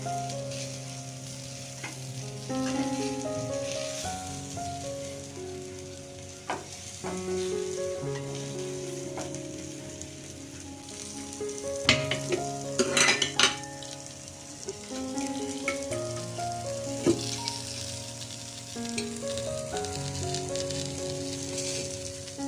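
Karli fish frying in oil in a pan while being stirred, a continuous close sizzle with scattered scraping and clinking of the spatula and a louder, busier stretch of stirring midway, under steady background music.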